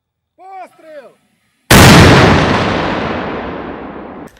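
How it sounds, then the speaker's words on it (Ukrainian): A few short shouted voices, then a single loud, sharp blast of a mortar firing, its boom rolling away into a long fading rumble. "Воїни швидко готують снаряди та міномет до стрільби."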